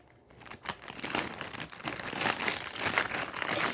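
Resealable plastic packaging on a squishy toy is crinkled and pulled open up close, with a steady, rising rustle and crackle throughout and no talking.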